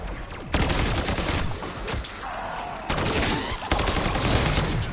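LC10 gunfire in Black Ops 6 Zombies: rapid, loud automatic bursts with brief gaps between them, close and dominant throughout.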